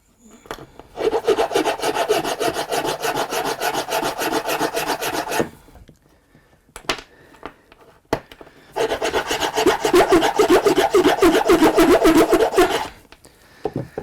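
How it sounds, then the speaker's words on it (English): Hand filing on a plastic part during a Karcher WD3P wet-and-dry vacuum repair: two long stretches of steady, rapid back-and-forth rasping strokes, close and loud, separated by a pause with a few small knocks and handling sounds. "So I'm just filing down the side just so it's not round, so we can fit in."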